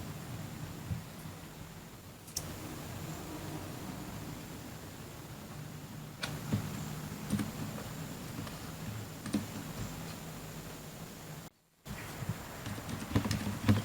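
Typing on a Ducky One 2 Mini mechanical keyboard, a steady run of fast, close clicky keystrokes with occasional louder presses and a brief silent gap near the end.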